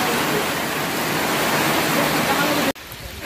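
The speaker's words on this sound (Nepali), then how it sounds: "ठुलो पानी आइरहेछ" Heavy rain pours down steadily during a mountain bike ride in Nepal, a loud, dense rush of falling water that fills the air and cuts off abruptly near the end.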